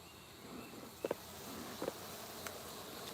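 Russian honeybees hum faintly and steadily in an open hive during an inspection, with a few brief, slightly louder buzzes as individual bees pass close by.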